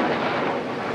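Heavy, unbroken rain in Gangarampur during flood-threatening weather pours down as a dense, steady roar with a deep rumbling undertone, loud and close throughout.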